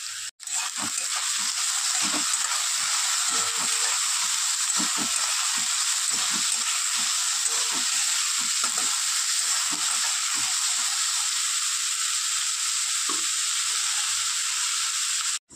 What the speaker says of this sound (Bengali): তো নেড়ে ছেড়ে একদম লাউ খোসা আর আলু ভেজে নিয়েছি